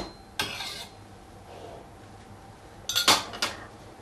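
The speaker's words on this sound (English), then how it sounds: "I'll give this a good stir and then let it simmer for approximately 20" A spoon stirs curry with eggplant and minced meat in a pot, two short bursts of metallic scraping and clinking close by over a quiet background hum.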